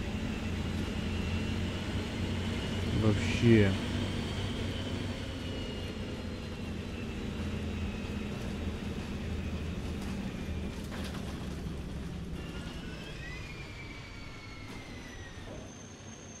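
A Mercedes O405 bus engine in the video game OMSI 2, a steady, vacuum-cleaner-like drone and hum that persists throughout with a brief louder swell early on, and a single short spoken word over it.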